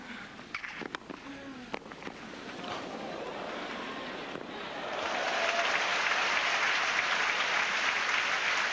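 Tennis crowd applause during a Henman versus Coria match, moderate at first and then swelling into a louder, denser wash of clapping that carries on steadily to the end.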